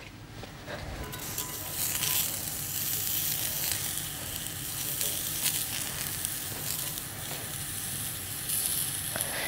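Onions and oil sizzle on a hot sizzler plate while tandoori chicken wings with Lyonnaise are cooked. A loud, steady hiss of frying runs nearly the whole clip with crackling bursts.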